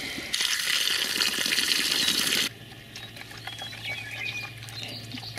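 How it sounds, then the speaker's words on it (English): An outdoor garden faucet runs with a loud rushing gush of water for about two seconds. The flow then cuts to a quieter trickle and patter against a faint outdoor background. "Looks like our faucet is on."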